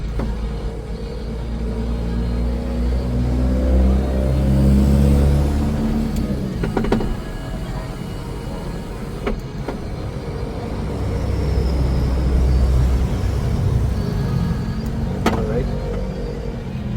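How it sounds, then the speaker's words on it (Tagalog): A 2000 Ford Ranger's power window motor whirs as the glass rises with the engine off, twice in long rising hums, with clicks and thumps at the stops. "Ngayon pa lang na nakapatay yung makina, naangat na niya yung bintana."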